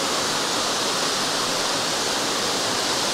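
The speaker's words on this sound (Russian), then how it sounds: "Вот он сам, Огненский водопад." The Olginsky waterfall in a canyon in eastern Abkhazia roars as a dense, constant rush of falling water, loud and close with no other sounds over it.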